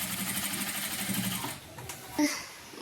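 Sewing machine stitching fabric for a churidar top, running in a steady continuous whir up close, then slowing and stopping with a brief clunk near the end.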